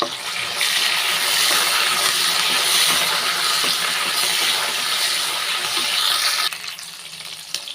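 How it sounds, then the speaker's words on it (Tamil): A sprig of curry leaves hitting hot oil in a pan of frying shallots, a loud steady close-up sizzle and crackle that runs throughout before easing slightly near the end. "ஒரு கொத்து கருவேப்பிலை சேர்த்துக்கிறேன்"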